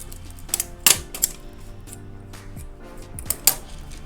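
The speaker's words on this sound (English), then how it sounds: "I'm just going to cut off my excess zip." Scissors snipping off the excess end of a zipper while fully lining a dress, a few sharp close cuts standing out over a steady background hum.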